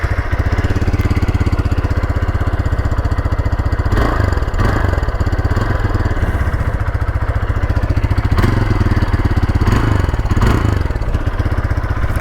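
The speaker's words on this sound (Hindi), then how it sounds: "मैं आपको सुनाने वाला हूँ एग्जॉस्ट नोट कि इसका एग्जॉस्ट कैसा" A Hero Xpulse 200T 4V motorcycle idles with a loud, close, steady thumping exhaust and a mechanical clatter, with a couple of brief blips of throttle partway through.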